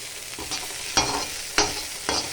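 Fenugreek leaves, sesame seeds and tomato frying in a pan for chutney, with four distinct spatula scrapes and stirs over a soft, steady sizzle.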